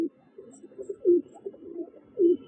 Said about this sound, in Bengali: এই একটা পায়রা